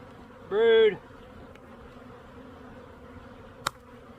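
A honeybee buzzes past close by during a hive split, a brief loud whining hum of less than half a second, then faint background noise and a single sharp knock.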